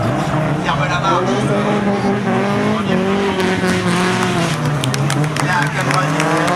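A Peugeot 306 S16 rally car races at a motorsport event in Laon, June 2017. Its engine roars loud and steady with tire squeal, while a commentator talks over it throughout.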